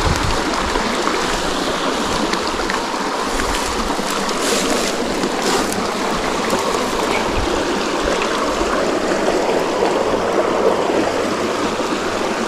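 Steady, continuous rush of a small fish-filled stream flowing nearby, broad and even throughout with faint clicks and knocks on top.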